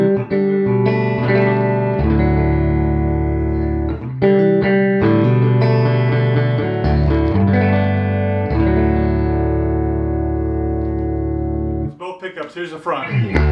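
Electric guitar chords ring out clean and undistorted through a Princeton tube amp with no tremolo or reverb, strummed and left to sustain, with a brief muted scratching of strings at the end.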